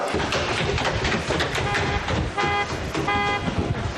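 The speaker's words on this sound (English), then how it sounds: "Who is honking the horn?" Car horn honking outside a house: several short toots and beeps sound over a busy background, with some talk mixed in.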